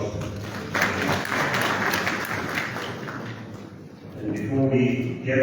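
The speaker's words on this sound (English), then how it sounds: "Another round of applause." Applause from attendees at a West African central bank governors' committee meeting in Liberia. Steady, moderately loud clapping fills most of the clip, then dies down as a voice comes in near the end.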